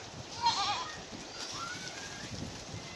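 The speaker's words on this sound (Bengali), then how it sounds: "আসলো বইলা দেখবেন ছাগল কেমন করে" A goat bleats twice from a short distance, a wavering cry followed by a longer drawn-out one, over a steady wash of background noise in an outdoor rural setting.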